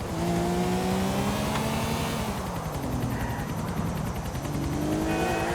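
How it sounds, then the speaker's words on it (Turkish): In Grand Theft Auto IV, a car races a helicopter, engine drone with shifting revving pitch over the steady chopping whir of rotor blades, loud and continuous. "Gel lan helikopterle yarışalım."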